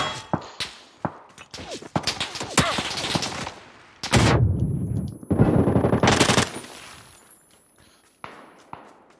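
Heavy gunfire in the PUBG video game on the Vikendi map: dense bursts of automatic fire and single shots, loud and close, with a sustained rapid burst in the middle and scattered shots trailing off at the end.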